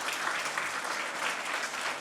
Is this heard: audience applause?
yes